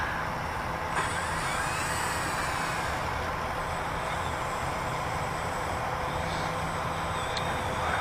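An electric eFlite Spitfire RC model airplane on a 4S battery, its motor giving a steady, loud continuous drone throughout, with faint whine shifts over outdoor wind noise at a runway.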